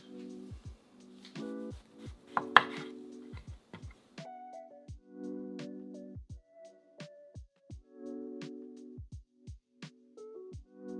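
A knife chops yellow squash for ratatouille in a short, quick run of crisp taps on a board, set against a steady tonal background.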